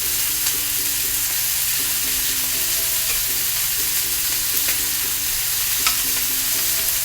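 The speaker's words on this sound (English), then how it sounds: "You want to hear that sizzle when the pan goes on." Ribeye steaks sear in a hot pan with a loud, dense, steady sizzle that never lets up, while faint background music plays underneath and there is no talk.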